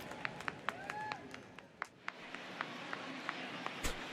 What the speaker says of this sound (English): That was like an awkward clap.